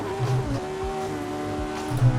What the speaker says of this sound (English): Car dancing all over the place as we head down into hard braking for turn 1.